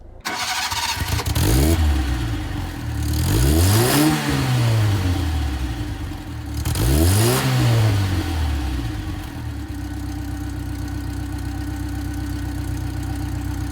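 Yugo 45 small car cranked and started, followed by two loud revs of the engine that rise and fall, then settling into a steady, rough idle heard close up from behind the car.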